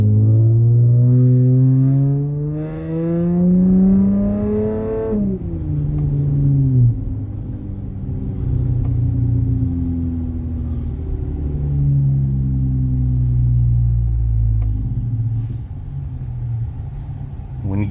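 Nearby car exhaust fitted with MagnaFlow mufflers rumbles deep and loud, sweeping up through a rev then dropping back to a throaty idle that swells again, with someone talking over it.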